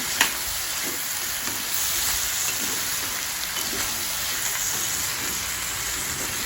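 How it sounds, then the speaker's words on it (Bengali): Rice fries in ghee in a pan for vegetable pulao, giving a steady, even sizzle with faint stirring scrapes throughout, close and moderately quiet with no talking. "ভালো করে একটু চালটাকে ভেজে নিতে হবে, জলটা যাতে শুকিয়ে গিয়ে বেশ ভাজা ভাজা হয়"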